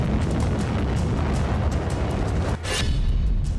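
Explosions in the war in Ukraine rumble as a dense, loud low roar of blasts, with one sharp burst standing out near the end.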